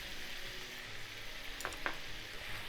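Yakiniku beef filling with sesame seeds being stirred in a pan off the heat, a soft steady sizzle broken by a couple of quick scraping clicks from the utensil.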